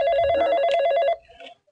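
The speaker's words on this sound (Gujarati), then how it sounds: "કોનો ફોન આવ્યો?" A telephone rings in repeated bright electronic bursts for about a second, close and loud, then cuts off, leaving faint room noise.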